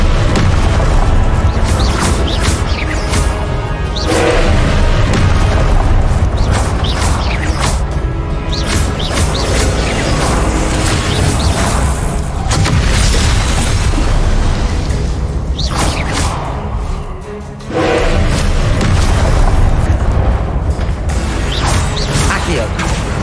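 Spell explosions and magical blasts from the Hogwarts Legacy video game, loud booming bursts repeating through a dense, noisy battle with continuous game effects and a voice speaking over parts of it.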